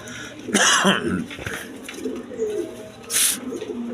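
Giribaz pigeons coo in a pigeon seller's setting, with bursts of throaty calls and some coughing or throat-clearing sounds among them, fairly close and moderately loud.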